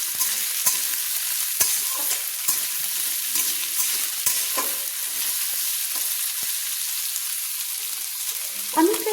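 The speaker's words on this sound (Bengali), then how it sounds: "আমি প্রায় 2 মিনিট মতো ভেজে নিচ্ছি।" Vegetables for street-style veg chowmein are stir-fried in a hot pan with a continuous sizzling hiss and scraping stirs, close and fairly loud with little talk.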